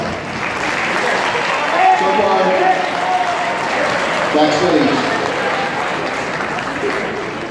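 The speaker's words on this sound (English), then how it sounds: "a round of applause." Audience applause at a high school chorus concert, a steady wash of clapping filling the room, with a person speaking briefly over it.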